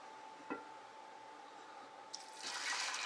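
A quart of water poured into a cooking pot in a home kitchen, beginning after a couple of faint clicks and swelling into a steady splashing stream at the end.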